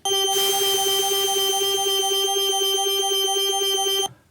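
A sustained Studiologic Sledge synthesizer glass pad holds a steady bright chord with a hiss of white noise layered on top, starting suddenly and cutting off after about four seconds.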